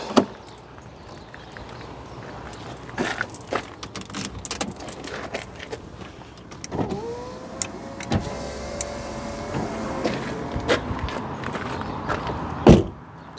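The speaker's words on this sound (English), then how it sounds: "Let's open these windows instead." Electric car windows whirring open under a steady motor hum, preceded by scattered clicks and knocks inside the car, with a sharp clunk near the end.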